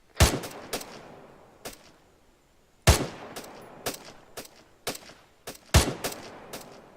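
Rifles fire rapidly during section jungle drills, with loud, sharp shots in uneven clusters, some in quick doubles and triples, separated by short pauses and echoing in the open.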